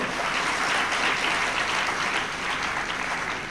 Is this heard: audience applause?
yes